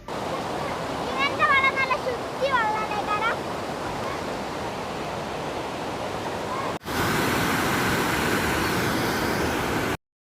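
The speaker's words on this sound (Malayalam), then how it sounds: "വഴിയിലൊക്കെ ഇതുപോലെ പാറക്കെട്ടുകളിലൂടെ വെള്ളം ഒഴുകുന്നത് നമുക്ക് കാണുന്നുണ്ട്" Water rushes over rocks near a waterfall in Wayanad, a steady broadband roar that grows louder and closer after a sudden cut, with a few bird-like chirps early on.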